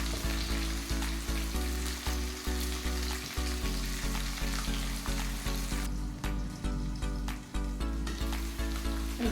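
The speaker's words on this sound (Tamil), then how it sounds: "இந்த மாதிரி நல்லா வதக்கிட்டே இருக்கணும்" Sliced onion and potato with a little salt sauté in a hot pan under a constant loud sizzle, with steady rhythmic stirring strokes scraping through the mixture close by.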